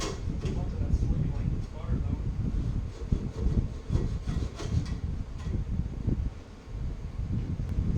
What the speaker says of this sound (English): use a hacksaw to remove the metal cage surrounding the bushing